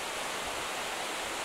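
Kepirohi Waterfall on Pohnpei plunging from a great height, a loud, close, unbroken roar of water.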